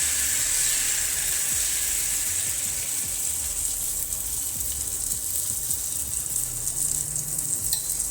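A spatula stirs jaggery pude batter in a hot pan, with steady hissing sizzle and scraping throughout, close and fairly loud, without speech.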